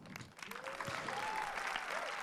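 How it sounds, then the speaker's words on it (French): A crowd at the closing ceremony of the Saint-Jean-de-Luz International Film Festival applauds magicians, dense sustained clapping swelling to a steady roar, with a few faint cheers and voices mixed in. "qu'on peut applaudir très fort"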